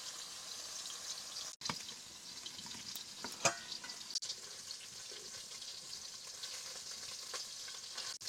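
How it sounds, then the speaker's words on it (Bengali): Fish pieces frying in a pan, a faint steady hiss of oil with occasional crackles and a couple of brief utensil clicks, heard close with no voices. "তো এই যে মাছ ভেজে নেব।"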